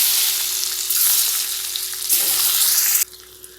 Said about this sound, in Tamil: இப்போது நான் ஒரு 2 நிமிஷத்துக்கு இந்த மாதிரி முட்டையை நம்ம ஃப்ரை பண்ணியாச்சு